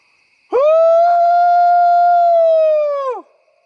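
A single long hybrid whoop howl made by a human voice imitating Bigfoot in the woods of Bear Brook, New Hampshire: a loud, sustained tonal call that rises sharply, holds steady for nearly three seconds, then drops away into silence.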